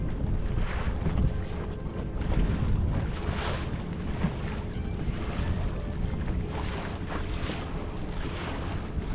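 A 2022 Alumacraft 185 Competitor fishing boat creeping along at about three miles an hour into the wind, with steady loud wind buffeting the microphone and water rushing and slapping the hull throughout, no talking.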